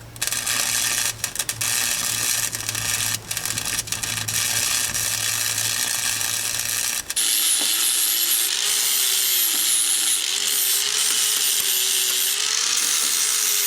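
Power tool cuts into the metal of a Ford Maverick strut tower, loud and harsh with rapid rattling bursts for about seven seconds, then shifts to a thinner high whine with a wavering tone.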